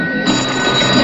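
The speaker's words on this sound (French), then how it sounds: "c'est le téléphone pour vous" A telephone rings loudly and continuously in a western-film setting, with a steady, bright, buzzing bell tone and no voices over it.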